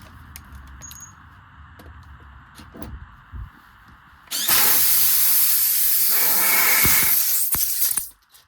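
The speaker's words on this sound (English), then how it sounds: "still hear a leak" Faint clicks and shuffling, then a loud, steady hiss of air leaking from a truck tire during a patch repair bursts in and runs for several seconds before cutting off abruptly.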